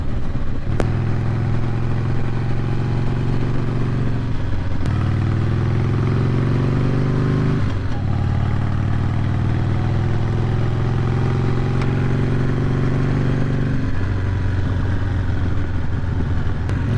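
A 2004 Harley-Davidson Softail riding in fifth gear gives a loud, close, steady low engine drone whose pitch rises gradually, with brief dips as the throttle eases, over constant road and wind rumble.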